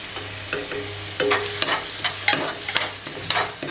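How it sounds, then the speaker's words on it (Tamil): Banana flower pickle is stirred in hot oil, a sizzling fry broken by a series of sharp scraping strokes of the spoon against the pan, about one every half second. "நல்லா ஒரு வாட்டி கலந்து விட்டுடலாம்"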